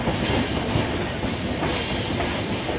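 Steady, continuous rumble and clickety-clack of a moving passenger train heard from inside the carriage, loud and even throughout with no talking.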